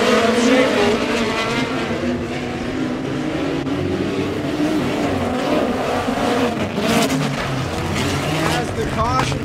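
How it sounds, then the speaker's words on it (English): POWRi West Midget League race cars roar around Airport Raceway in a steady, loud mass of engine noise, with an announcer talking over it throughout. "Tyler Thomas will have to come from the back of the field as the green flag will fly"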